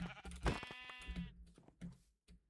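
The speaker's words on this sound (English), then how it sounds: "there are some sheep, so I can kill these guys" In the video game Minecraft, a sheep gives a clear wavering bleat, followed by a few quieter clicks and shuffling sounds, heard fairly faint with no talk.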